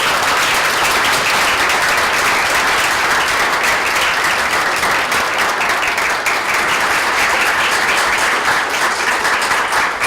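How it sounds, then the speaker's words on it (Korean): Sustained applause fills a hall at a Democratic Party youth politics school graduation ceremony as the party's emergency committee leader enters, a dense, even roar of many hands clapping continuously for about ten seconds. "큰 박수 부탁드리겠습니다"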